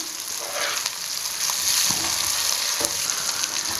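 Steady close sizzling of food frying in hot oil, with a few brief stirring clatters over the continuous hiss.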